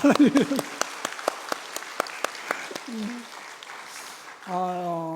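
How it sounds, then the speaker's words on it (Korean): A church congregation at a Sunday evening service claps in a steady rhythmic beat, sharp distinct claps over several seconds, with voices speaking and singing around them. "다들 박수 치니까 저희도 한번 칠까요?"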